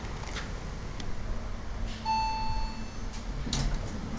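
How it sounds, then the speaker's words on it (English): A single clear electronic chime sounds as a hydraulic Otis lift arrives in a shopping mall, ringing out and fading over about a second amid quiet indoor room noise and a few faint clunks. "Now we'll get it to chime."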